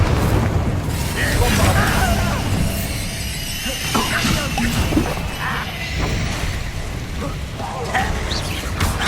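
Fiery Confringo and Incendio spell blasts in Hogwarts Legacy, a run of booming bursts and crashes over busy combat noise, with a voice shouting at times between them.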